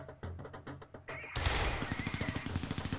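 Minigun fire in the PocketTroops mobile game starts as a chattering series of quick shots, then swells into a loud, dense burst of rapid fire that keeps rattling steadily and close.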